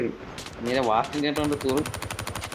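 Rapid automatic gunfire from an MP80 in the Call of Duty Mobile video game, a fast even stream of shots in the second half, with excited talk over the start.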